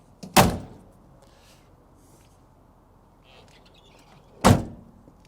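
Two solid door slams on a 1997 Toyota Land Cruiser Troopy, a sharp thud near the start and another about four seconds later, with faint outdoor birdsong between.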